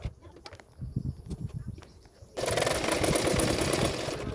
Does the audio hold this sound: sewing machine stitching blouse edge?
yes